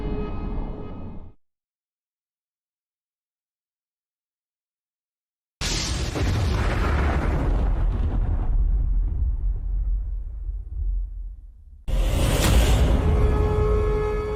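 A huge Big Bang explosion erupts with a deep roaring rumble after a burst and a long silence, then a second loud blast follows, full and close.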